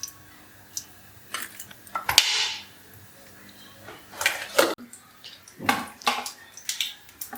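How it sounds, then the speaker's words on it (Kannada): Mustard seeds dropped into a heated pan of oil splutter and crackle in short, sharp bursts while tempering for rava idli, with a few scattered pops and a clink of utensils between the louder flurries. "ಈಗ ಸಾಸಿವೆ ಹಾಕೋತೀನಿ ಸ್ವಲ್ಪ"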